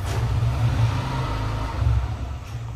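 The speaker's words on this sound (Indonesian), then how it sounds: "ada motor lewat bentar" A motorcycle passes by outside during an indoor mattress review, a steady low engine rumble that swells slightly near the end, heard alone without speech.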